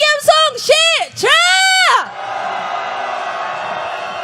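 A protest crowd on a busy Hongdae street chants a rhythmic cheer for impeachment, three loud rising-and-falling shouted phrases, followed by a sustained wash of crowd noise.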